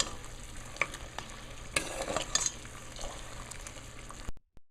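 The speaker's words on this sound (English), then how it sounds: "So it's boiling right now." Sugar syrup for mithai bubbling in a pot, a soft steady sizzle with occasional clicks and stirring scrapes, close and fairly quiet with no talk.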